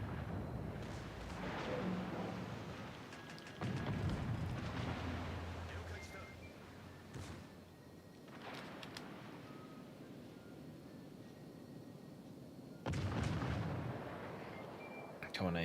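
Warship turret guns fire in World of Warships: Legends as several heavy, booming salvos roll out at intervals, each with a long rumbling tail. Someone talks over the gunfire.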